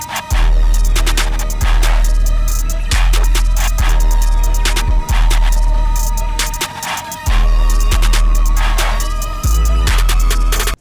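A glo-style trap beat made in FL Studio plays loud and continuous, with booming 808 bass notes, punchy kicks, snare hits and rapid snare rolls over bright melodic synth layers, with brief drops in the bass between sections.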